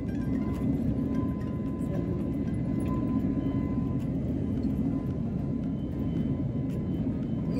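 Airplane on the runway preparing to take off, heard from inside the cabin as a steady, loud low-pitched engine rumble and roar that holds evenly throughout.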